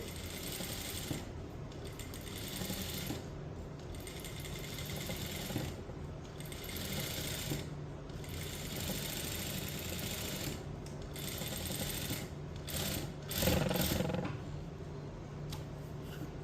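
A sewing machine stitches a blouse with a light hand, running in steady whirring bursts separated by brief pauses, close and moderately loud, with no voices.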